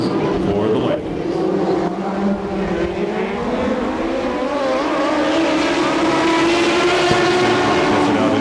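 Lightning sprint race cars with Suzuki motors racing on a dirt track in Perris, California, a loud continuous pack of high-revving engines whining and shifting in pitch, close and sustained, with a faint announcer voice underneath.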